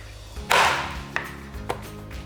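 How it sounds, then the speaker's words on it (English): A knife slices through peeled potatoes on a cutting board, giving one loud crunching cut followed by a few lighter, sharper taps against the board, close and with no voices. "First, of course, you wanna peel them, and then you wanna go ahead and slice them in half."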